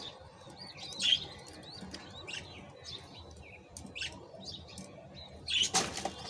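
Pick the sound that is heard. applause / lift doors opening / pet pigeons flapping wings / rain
pet pigeons flapping wings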